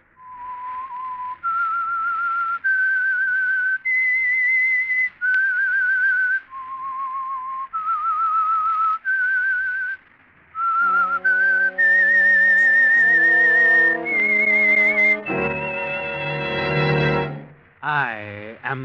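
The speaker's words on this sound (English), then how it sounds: "That whistle is your signal for the Signal Oil Program" Whistled theme tune for The Whistler mystery radio program, a clear solo melody of sustained notes rising and falling, then joined by a full orchestral swell that ends in a dramatic flourish.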